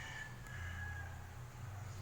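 Chickens cluck and a rooster crows faintly in the background over a steady low rumble, with no talking.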